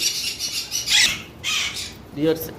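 Brown lory parrot squawking in harsh, raspy bursts, several loud calls close by over a noisy background, with a brief voice near the end.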